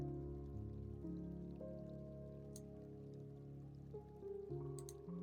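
A fountain in the Alice-themed video game Habromania starts flowing again, a soft steady trickle and patter of water running under sustained background music with no speech.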